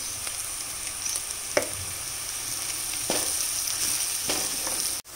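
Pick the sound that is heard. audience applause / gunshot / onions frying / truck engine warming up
onions frying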